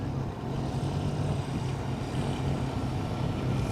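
A motorcycle and all-terrain vehicles drive past near a campsite above Lake Pleasant, producing a continuous engine drone and rumble that stays steady and fairly loud throughout.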